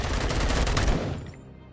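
Automatic gunfire in RoboCop: Rogue City, a rapid loud burst of machine-gun shots lasting about a second before cutting off and fading.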